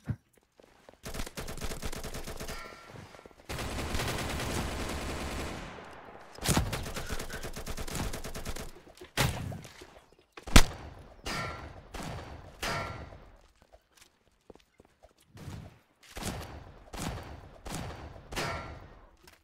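Gunfire in the Roblox game Mad City comes in sustained automatic bursts, then in a series of sharp separate shots with short gaps between them, all loud and close.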